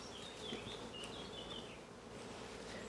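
Honey bees hum in a steady, soft drone over open hive frames holding brood and a laying queen, with no one talking.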